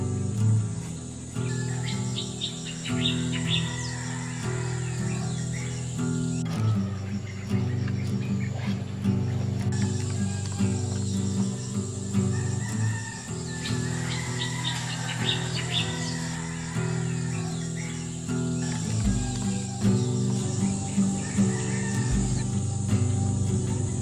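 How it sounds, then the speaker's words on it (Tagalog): Morning nature sounds at a campsite: crickets and insects trill continuously, with scattered bird chirps and calls layered over a steady hum, a dense and moderately quiet outdoor ambience. "Maririnig mo na yung mga ibon, nok, at tunog ng bagong araw."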